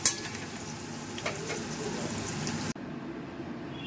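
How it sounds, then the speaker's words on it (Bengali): Potatoes sizzle steadily in hot oil in a pan, fried before an egg curry; the bright, crackling frying runs close and unbroken, then cuts abruptly to a softer, quieter sizzle near the end. "সেই জন্য আগে একটু আলুগুলো ভেজে দিই।"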